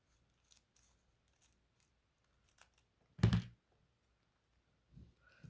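Scissors snip off excess paper during a craft project: a single crisp, close cut stands out midway, with faint soft handling clicks before and after in an otherwise quiet room.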